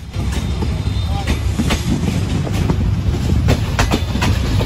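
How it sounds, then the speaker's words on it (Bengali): The Padma Express rolls along the rail line slowing down, a loud continuous rumble with rhythmic wheel clicks and clacks passing over joints, heard close from inside the train. "জাস্ট দেখো আমাদের ট্রেন স্লো করে নিচ্ছে"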